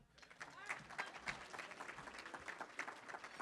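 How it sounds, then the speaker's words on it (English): Faint applause from a crowd at a business leaders' luncheon greets an honoree, a few seconds of soft, dense clapping with voices mixed in. "You can clap for him."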